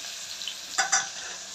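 Onions and curry leaves frying in a pan, heard as a steady close sizzle with a couple of brief louder crackles as the food is stirred, no voices.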